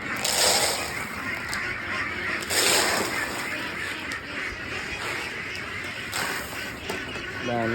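Young meat ducks quack and honk continuously while feeding, a dense noisy flock close by, with occasional louder calls over the steady clamor.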